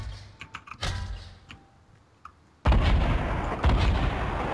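Grenade launcher fire in the video game Fortnite: after a stretch of quiet clicks and small noises, two heavy booming blasts land about a second apart, loud and close, with a rumbling tail after each.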